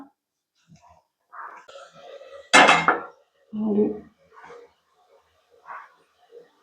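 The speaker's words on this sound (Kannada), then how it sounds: "ಸೊ ನಾನು ಇವಾಗ ಪ್ಲೇಟ್ ಕವರ್ ಮಾಡಿಬಿಡ್ತೀನಿ" A plate set down over a pan of cooking tomatoes gives one loud, sharp clatter midway, surrounded by quiet kitchen clinks and soft handling noises, with no talking.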